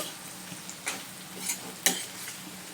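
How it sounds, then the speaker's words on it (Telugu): Garlic pieces fry in a curry pan with a soft steady sizzle, and a few spoon stirs and scrapes come through close by. "ఇప్పుడు కొంచెం వెల్లుల్లిపాయ వేసిన కొంచెం వేగాలి కదా, సో వేగనిచ్చేద్దాం"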